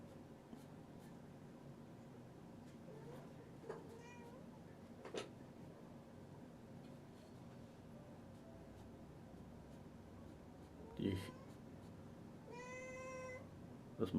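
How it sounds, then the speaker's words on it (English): A house cat meows several times in a quiet room, short faint calls at first and then a longer, wavering meow near the end, over a soft hum and scratchy drawing sounds. "That's my cat."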